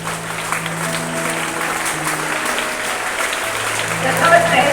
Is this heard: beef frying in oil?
no